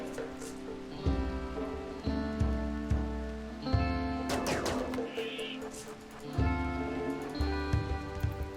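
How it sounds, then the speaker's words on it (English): Steady rain hiss in the Rimworld colony game sits under looping melodic game music, with soft pattering texture throughout and no talk. "it's raining"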